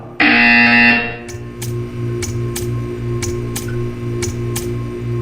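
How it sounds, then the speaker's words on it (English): A loud, harsh electronic buzzer from the video game Portal 2 blares for about a second, then a soft hum and regular ticking continue. "You will hear a buzzer."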